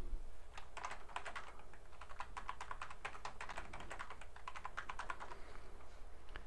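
Rapid, close keystrokes on a computer keyboard enter a password, a dense run of crisp clicks lasting several seconds over a faint low hum.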